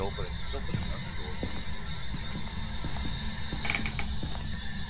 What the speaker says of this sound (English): He's opening another door.